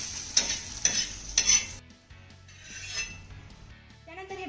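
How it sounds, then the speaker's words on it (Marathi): Green chillies dry-roasting in a pan for a bitter gourd dish, with sharp scraping stir strokes and clinks early, then a softer sizzle and pan rustle close by. "ह्या मिरच्या देखील मस्त अशा डाग पडेपर्यंत भाजून घ्यायच्या."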